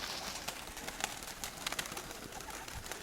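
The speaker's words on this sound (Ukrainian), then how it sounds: "Бо це її голуб, він її жене на яйця." A pigeon coos softly, driving its mate toward the eggs, a faint low murmur under a steady wash of background noise with a few light taps.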